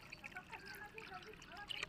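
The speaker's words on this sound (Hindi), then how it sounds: "तो आप लोग देख सकते हैं हम भर रहे हैं पानी" Water pours steadily into a drum on a rooftop where construction work is underway, a continuous trickling, splashing stream heard close and moderately quiet throughout.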